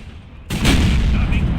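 Artillery fire in the tank battle game World of Tanks: one sudden, heavy blast that breaks in loud and close, then rolls on as a dense, sustained rumble with no talking over it.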